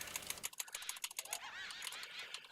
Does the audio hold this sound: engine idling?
no